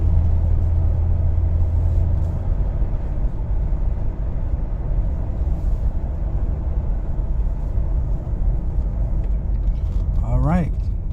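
A 2008 Ford Crown Victoria Police Interceptor driving and shifting through gears, a steady low engine and road rumble heard from inside the cabin, with someone talking over it throughout.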